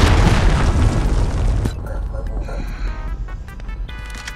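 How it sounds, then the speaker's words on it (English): A cruise missile blast in the video game Modern Warfare: a loud, broad boom roars for about a second and a half, then breaks off into a rumbling, crackling tail that fades under faint game noise. "Enemy cruise missile incoming!"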